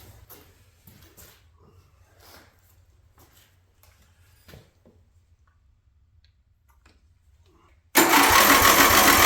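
A junked lawn mower engine, freshly given a little fuel, gives faint scattered ticks and clicks for several seconds, then abruptly bursts into a loud, steady, close roar as it catches.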